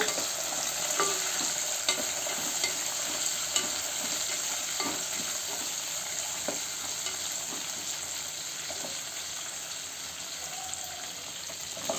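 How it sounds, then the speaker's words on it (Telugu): Tomato frying in a pan, a steady bright sizzle with occasional clicks and scrapes as it is stirred, moderately loud and continuous, with no talk. "అవి కొంచెం వేగాక టమాటో వేద్దాము ఒక టమాటో వేసాము"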